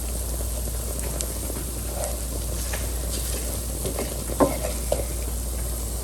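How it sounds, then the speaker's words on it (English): Onions cook down in a pan with a steady low sizzle and frying hiss, broken by a few scraping stir clicks. "You really want the onions to cook down."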